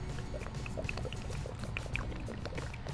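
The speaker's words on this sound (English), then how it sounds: "take whichever disinfectant or sanitizing product you're using and you want to pour that directly over top of your roll" Disinfectant or sanitizing liquid is poured straight over the top of a paper towel roll to make wipes, giving a soft, steady, continuous splashing trickle at low level throughout, with no voices.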